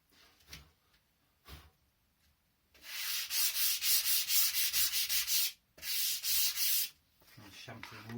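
Sandpaper rubbing along a wooden board-game box edge at a 45-degree angle to chamfer it, a few light strokes then long rapid back-and-forth sanding runs with a short break, close and loud.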